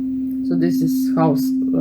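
A steady synthesizer sine wave holds one pure, constant pitch throughout, with a person talking over it partway through.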